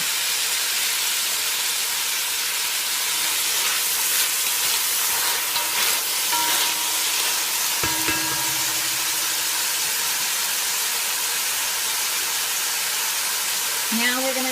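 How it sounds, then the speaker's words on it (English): Garlic in a hot pan gives a continuous sizzling hiss, loud and steady, for vegan loaf, with faint clinks and a brief low knock midway. "We are going to drop our garlic."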